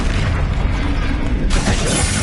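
A spell explosion in Hogwarts Legacy on PS5, a loud, dense burst of booming noise that fills the whole moment, with a sharp fresh blast breaking in about two-thirds of the way through.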